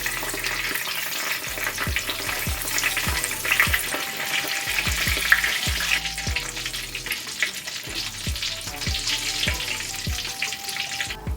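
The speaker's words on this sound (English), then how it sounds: "We're gonna go ahead and remove them from the oil." Tofu vegan nuggets fry in hot oil with a loud, continuous bubbling sizzle, broken by regular sharp taps of a utensil against the pot.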